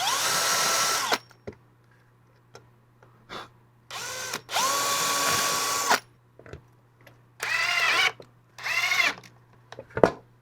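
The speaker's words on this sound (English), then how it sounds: "Pre-drilling our hinges." Several bursts of a whirring power drill pre-drilling screw holes for hinges, each a second or two long, separated by brief pauses and small clicks and taps.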